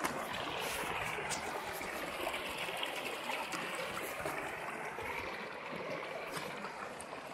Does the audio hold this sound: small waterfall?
yes